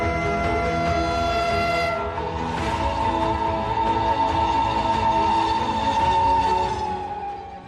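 An Indian Railways train sounds a long, loud, sustained horn over the rumble of rolling wagons, the tone holding steady for several seconds before fading out.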